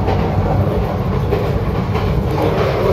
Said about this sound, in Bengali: প্রচণ্ড স্পিড আছে ট্রেন।